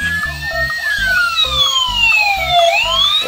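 A toy fire truck plays a loud electronic wailing siren with overlapping rising and falling tones over a pulsing beat, continuous and close.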